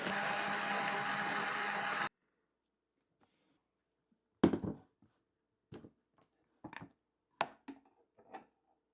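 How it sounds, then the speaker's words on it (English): A blender runs loud and close for about two seconds, purees a vegan vegetable soup with veggie broth into a dense, steady whir, then cuts off abruptly, followed by a few scattered knocks and clatters. "Then I blended it all until smooth."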